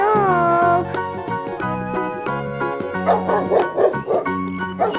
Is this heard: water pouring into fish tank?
no